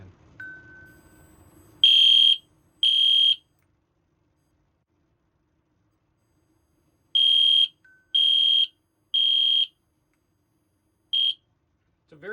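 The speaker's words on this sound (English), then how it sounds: "We got the fire alarm right here." An EST Genesis fire alarm sounding during a test gives loud, piercing electronic horn bursts: two near the start, then three more after a pause and a final short one, with silence between the groups.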